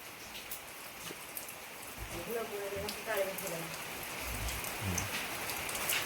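Steady rain falls on a village cow farm in rural Odisha, a continuous hiss of drops on surfaces with occasional nearby knocks and faint low voices beneath.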